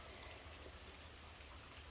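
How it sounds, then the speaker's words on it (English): Rain drums steadily on a metal roof, a dense, even patter that holds at a soft level with no talk over it. "listening to the rain hit the metal roof."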